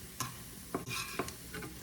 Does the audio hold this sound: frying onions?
yes